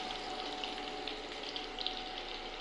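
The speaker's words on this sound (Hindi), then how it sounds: "देखिए कितना प्यारा फ्राई हो रहा है" Samosas and cigar rolls frying in oil over a medium flame, giving a steady, even hiss and crackle of bubbling oil with light pops throughout, close by and with no talking.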